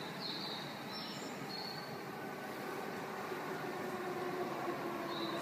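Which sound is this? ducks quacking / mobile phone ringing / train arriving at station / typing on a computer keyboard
train arriving at station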